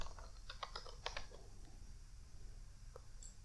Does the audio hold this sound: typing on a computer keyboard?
yes